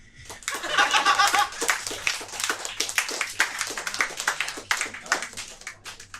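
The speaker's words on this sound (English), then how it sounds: "can we have a big, fat, ugly round of applause for Jack Charles" A live pub audience claps, cheers and laughs in a lively round of applause that swells quickly, then thins into scattered claps over several seconds.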